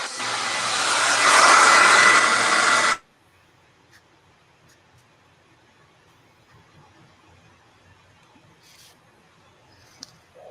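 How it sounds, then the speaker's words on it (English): Hair dryer used to dry a mixed media painting, a loud steady whirring blast for about three seconds before cutting off abruptly into near silence. "excuse the hair dryer sound"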